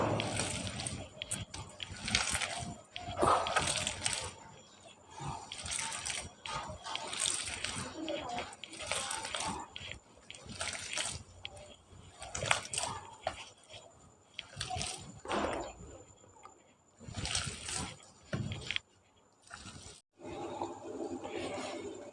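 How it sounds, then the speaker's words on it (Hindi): Raw chicken mince being mixed by hand with soy sauce and seasonings, giving repeated wet squelching and slapping pulses close up, with a person talking in between. "1 चम्मच सोया सॉस, इन सब चीज़ों को अच्छे से मिक्स कर लें।"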